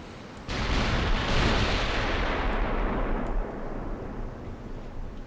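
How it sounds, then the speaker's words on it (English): A torpedo strikes a warship in the naval game Ultimate Admiral: Dreadnoughts, a sudden loud explosion that erupts into a broad rumbling roar and slowly fades over several seconds. "There's a torpedo hit already."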